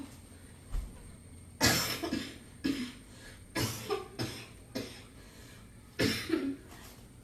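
A person coughs repeatedly and close by, about half a dozen sharp, harsh bursts spaced unevenly over several seconds in an otherwise quiet room.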